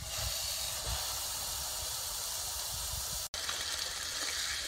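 Hamburger patties sizzle in a skillet over medium-low heat for loco moco, a continuous close, even hiss with a brief cut near the end, no voices.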